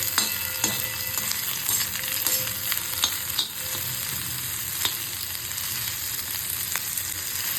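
A medium tomato fries and softens in a pan for usal, a continuous close crackling sizzle with repeated light taps and scrapes of a stirring spoon throughout.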